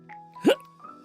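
A cartoonish hiccup sound effect from a video game, a single short rising chirp in the middle, over faint steady background tones.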